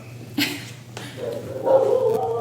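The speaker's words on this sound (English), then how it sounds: "This dog is picking them up very loud." A dog barks and yips near a voice talking, sharp bursts mixed with whiny vocal sounds.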